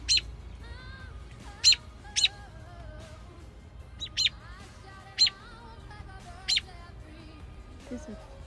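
Robins chirp near their nest in a tree after a storm, giving several sharp, high calls spaced irregularly over a low, steady outdoor background.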